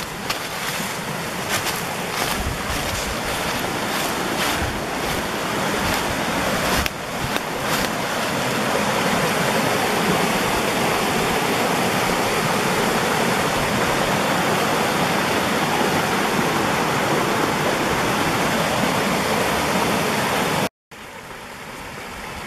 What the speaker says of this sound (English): Down here's where the water comes out.